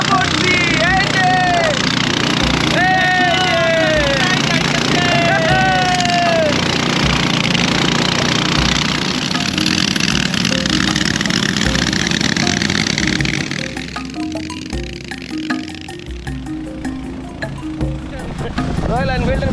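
A motor boat engine chugging loudly and steadily on a river near Thanchi, a rough rumble likened to a Royal Enfield motorcycle, with voices and other sounds over it early on before it settles into a steadier drone.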